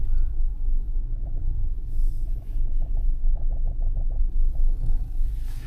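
A GWM Tank 300 diesel SUV climbs an uphill incline, its engine a steady low rumble close by, with faint rhythmic ticking riding over the drone and no talk.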